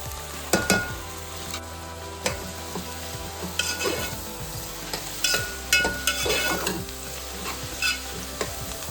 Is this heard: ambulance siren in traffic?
no